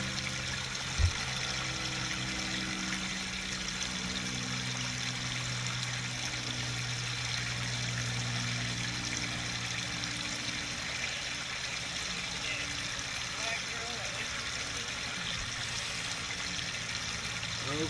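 River water flows in a steady, continuous rush that stays even and moderately loud from start to finish.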